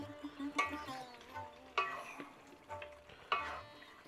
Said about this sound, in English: Give it a good stir so that everything's covered in the sauce.